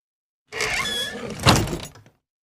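A secret door creaks open as a sound effect: a drawn-out squealing groan that swells, peaks sharply midway in a louder scrape, then trails off abruptly, heard alone.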